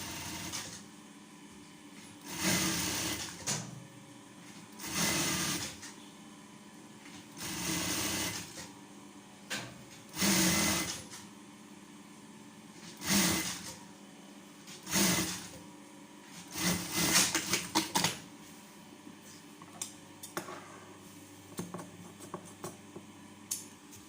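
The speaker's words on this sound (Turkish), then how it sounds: "şu şekilde fermuarımı diktim bu tarafa" A sewing machine stitches a zipper onto a pillowcase in repeated bursts of rapid mechanical whirring and ticking, separated by short pauses, close and fairly loud with no talking.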